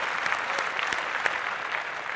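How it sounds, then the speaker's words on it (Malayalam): Audience at a comedy stage show applauds, a steady crackle of many hands clapping with a few sharper individual claps standing out, sustained and moderately loud with no talk. "നിങ്ങളുടെ കയ്യടികളാണ് അദ്ദേഹത്തിന് കാണിച്ചു കൊടുക്കുകയാണ് നമ്മൾ വേണ്ടത്"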